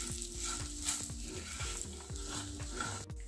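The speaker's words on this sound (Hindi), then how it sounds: "अब हम इन सभी को गैस की लो फ्लेम पर भूनेंगे।" Grated coconut and chopped pistachios roast in a pan on a low gas flame for dry fruit laddu, giving a soft, continuous sizzle with light stirring scrapes, close and fairly quiet.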